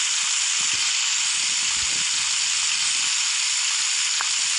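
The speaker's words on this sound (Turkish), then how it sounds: "ekmeği kızartayım ben." Steady, bright hiss of bread toasting in the video game Avatar World, like sizzling on a hot pan, continuous and fairly loud throughout with faint low clicks underneath.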